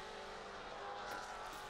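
A Maserati Trofeo race car passes on the Spa-Francorchamps circuit, a steady distant engine roar that swells slightly as it goes by, brief and fairly faint with no voices.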